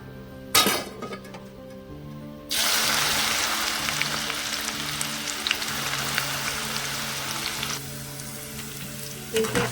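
Okra hits a hot pan for a restaurant-style bendakaya curry, bursting into a loud sustained sizzle after a quieter stretch with a clink, then fading back as the frying continues.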